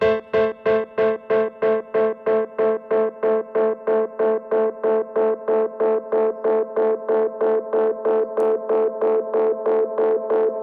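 A repeating synth note pulses about three times a second through a delay feedback effect in Ableton, its echoes building and the tone gradually shifting and smearing over the steady rhythm, with no talking.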